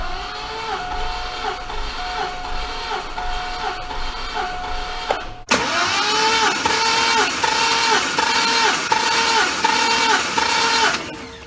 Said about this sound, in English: Now we gotta go crank it over and see what she reads.